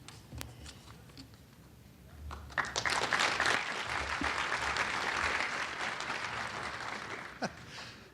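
Audience applause at an international industry forum for a highway public-private partnership program, a lighter patter of claps building at about two and a half seconds into a full, sustained round that fades near the end.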